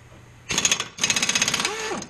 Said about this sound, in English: I don't know if I got enough oomph in my compressor to try and take these bolts out.